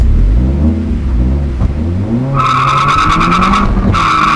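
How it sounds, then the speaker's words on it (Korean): Car engine droning in third gear, then revving higher without the car accelerating due to a slipping tuned clutch, with a harsh, sustained screeching whine over the top, loud and close. "RPM이 올라가도 차가 안 나갑니다"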